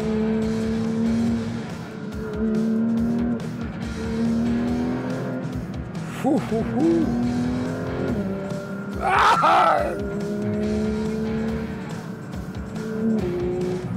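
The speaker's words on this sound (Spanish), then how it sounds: "Voy a callar un poco para que oigan el sonido." A Porsche sports car engine drones steadily under way, with shifting revs and a sharp rising burst around the middle. A brief exclamation is heard over the engine.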